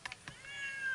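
A cat stuck in a tree in Mississippi gives a short, faint meow lasting about a second, preceded by a couple of quick soft sounds.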